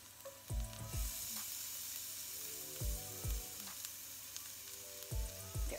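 Three crushed garlic cloves fry in a pan for a vegan sweet potato and butternut squash curry: a soft, quiet sizzle broken by a few dull clunks of utensil against pan.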